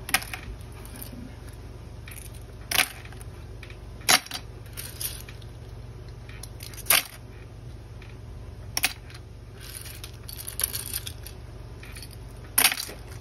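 Laptop keyboard tapped and knocked to shake out ants, a sparse run of sharp clicks and taps recurring every second or two over a steady low hum, with no talking.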